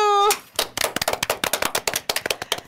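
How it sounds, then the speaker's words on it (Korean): Studio audience clapping at the start of a Korean broadcast show, opening after a short tone with a burst of uneven, sharp claps that continue steadily and close-miked for a couple of seconds. "모두 박수!"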